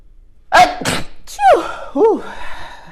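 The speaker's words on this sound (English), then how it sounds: "I'm about to sneeze." A person sneezes in three bursts, two quick sharp sneezes followed by a third, with brief vocal tails between them, close and loud.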